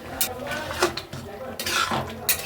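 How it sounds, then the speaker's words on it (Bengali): A metal spoon clinks and scrapes against a pan while turmeric is stirred into a banana stem curry, giving a handful of quick, close clattering strokes. "আমি এর মধ্যে দিয়ে দিলাম 1 চামচের মতন হলুদ দিয়ে এটাকে আমি নাড়াচাড়া করে দেবো"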